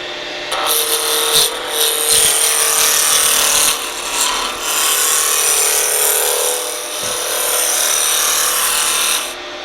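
A wood lathe spins a workpiece while a tool cuts it toward a cylinder, making a loud, sustained rasping scrape that dips briefly a few times.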